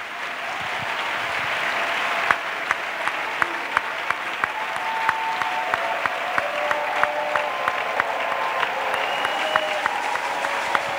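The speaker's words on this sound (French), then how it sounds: "Let's clap for Jesus Christ." A church congregation claps in praise of Jesus, sustained dense applause from many hands with a few sharper near claps, holding steady throughout without speech over it.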